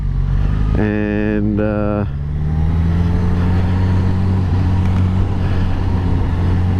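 A Suzuki GSX-S 1000 GT motorcycle engine pulls in a low gear on a demo ride, a loud, steady drone with a rising rev over strong wind rush, while a rider talks over it.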